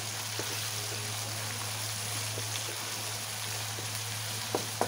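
Chicken liver sautéing in a pan for pancit, cooked for Chinese New Year, gives a steady, even sizzle with no talk over it and a low background hum.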